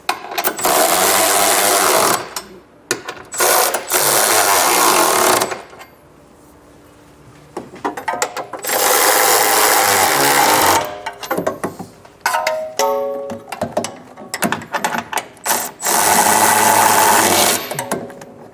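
A power tool, likely an impact gun with a 19mm socket, drives trailer hitch receiver bolts on a 2025 Kia Sorento. It comes in several loud, rattling bursts of a few seconds each, separated by pauses and brief clicks.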